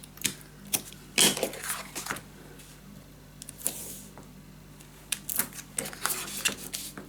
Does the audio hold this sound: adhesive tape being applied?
yes